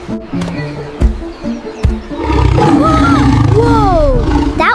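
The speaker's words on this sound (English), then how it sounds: "Was that a lion? I think so." A lion at a zoo lets out a loud, sustained roar that rolls on for several seconds after a few soft thumps, close and dominating with no talk.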